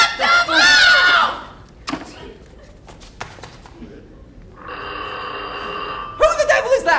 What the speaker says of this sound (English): Who the devil is that? It's Miles Taylor. Again, I told him to ring back after his first call